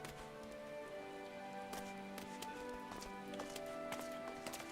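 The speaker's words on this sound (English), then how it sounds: "Behold the majesty of the horse." Horse hooves clip-clopping in Final Fantasy XIV, a quick run of light, crisp hoof taps over steady game music, fairly quiet.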